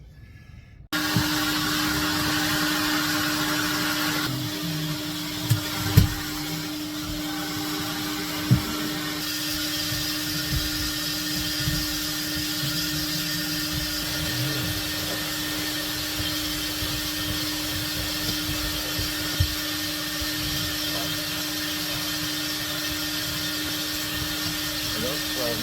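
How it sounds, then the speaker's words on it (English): A vacuum cleaner runs steadily for nearly the whole stretch inside a 2025 Freightliner truck being moved into, a loud continuous drone starting abruptly after a second, with a few brief knocks and bumps over it. "All right, let's try to get this vacuum, see if it'll work."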